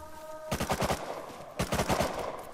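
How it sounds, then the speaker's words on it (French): Gunfire in the video game Rust rings out in two rapid bursts of repeated shots, each lasting about a second with a short pause between them. The shots sound fairly loud and sharp, and nobody speaks over them. "Vous voyez, ça continue à tirer."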